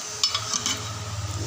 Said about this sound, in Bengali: মাছের ঝোল রান্না হচ্ছে কলাইয়ের ডাল দিয়ে।